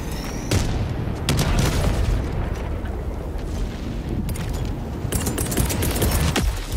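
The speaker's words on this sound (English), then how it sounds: "Calling down support weapons." Support weapons dropping from orbit in Helldivers 2 arrive as a series of loud booming impacts and blasts, with rumbling and mechanical clatter in between, close and intense, with no voices.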